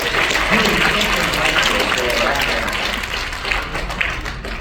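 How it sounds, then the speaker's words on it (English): Audience applause for a colleague at a work presentation, a steady wash of many hands clapping, fairly loud and close, thinning slightly toward the end with some voices mixed in. "Give him a round of applause."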